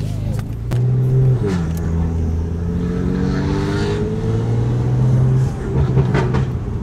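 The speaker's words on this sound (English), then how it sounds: "hear what it sounds like with a catless downpipe, non-resonated equal length midpipe, and the MadMax" A BMW F80 M3 engine revs with a raspy exhaust note through a catless downpipe and non-resonated equal-length midpipe, holding steady and swelling up and down, loud and close.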